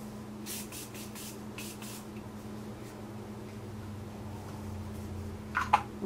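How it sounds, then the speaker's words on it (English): Morphe Continuous Setting Spray misted in several quick hissing bursts near the start, then a quieter pause and one final short spritz close up. "this is the Morphe Continuous Setting Spray"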